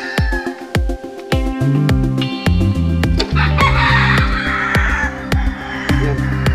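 Hens and roosters on a gamefowl breeding farm, birds calling and clucking repeatedly in sharp bursts throughout, with a busy chorus of overlapping fowl sounds close by.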